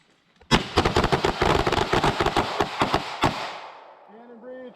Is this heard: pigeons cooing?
no